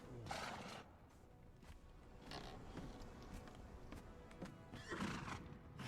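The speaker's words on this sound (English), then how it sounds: "We have some very lovely, healthy horses who are happy to see me by the looks of things." Horses whinny and snort nearby, with soft hoof thuds and rustling in a quiet stable, no talking.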